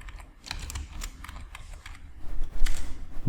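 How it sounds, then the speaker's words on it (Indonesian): Fingers tap on a computer keyboard in a quick, irregular run of close clicks while sample text is entered into a PowerPoint text box, growing a little louder near the end. "Tambahkan text box satu lagi, ketikkan sampel text"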